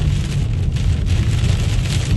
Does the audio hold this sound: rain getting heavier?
yes